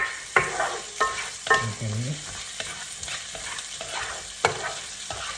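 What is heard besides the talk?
onions and garlic sautéing in a pan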